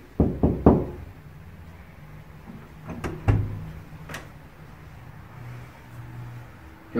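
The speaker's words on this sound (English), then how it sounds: "Knock knock." Three quick, loud knocks on a door come first, followed by scattered fainter thumps and knocks in a quiet room, in a horror short film.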